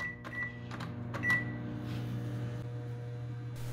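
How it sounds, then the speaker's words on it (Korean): A microwave oven heats pork belly covered in plastic wrap, giving a steady low electrical hum throughout with a few short, close beeps near the start. "랩을 씌운 고기를 전자레인지에 넣어줍니다."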